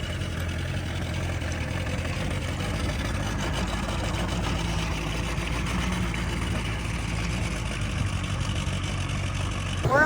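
Outboard motor on a 14-foot Carolina Skiff running underway, a steady mid-pitched engine drone that holds an even level throughout, close and continuous, with wind and water noise mixed in.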